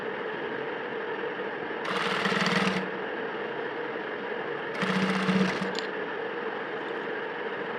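Two short bursts of a sewing machine stitching a trouser waistband where buckram meets elastic, each run about a second long with a pause between, over a steady background hum.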